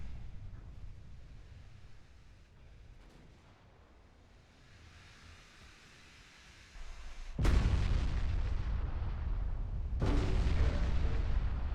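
Warship guns fire in Ultimate Admiral Dreadnoughts during a naval battle, first faint distant rumbles, then two loud, close booms whose roar lingers and fills the latter half.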